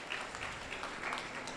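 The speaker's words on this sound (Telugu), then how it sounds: "ఒకసారి ఆ పిల్లవాడికి అందరం క్లాప్స్ కొడదాం" Audience clapping for a young child at a Bhagavad Gita avadhanam event in Karimnagar, a steady, moderately distant patter of many hands sustained without pause.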